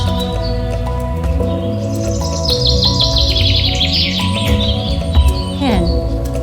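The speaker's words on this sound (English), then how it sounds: "Goldfinch." Goldfinch song of bright high chirps and twittering trills, heard over steady background music with a tonal, melodic bed running throughout.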